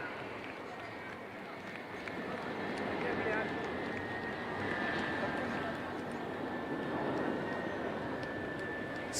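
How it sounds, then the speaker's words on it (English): An IL-78 MKI aerial refuelling tanker flies over a Chennai air show with two Mirage 2000 jets in formation, heard as a broad, distant roar of aircraft engines that swells and holds steadily beneath crowd ambience. "அடுத்த வரிசையில் IL-78 MKI மற்றும் 2 மிராஜ் 2000 ஆகியவை உள்ளன."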